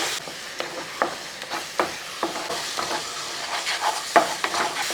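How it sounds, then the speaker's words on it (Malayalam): Ghee-coated jackfruit varattu being stirred in a pan, with a spoon scraping in repeated strokes over a soft, steady frying sizzle; close and moderately loud, no voices. "നെയ്യ് ഒഴിച്ചതിന് ശേഷം ഒന്ന് ഇളക്കി കൊടുക്കുക."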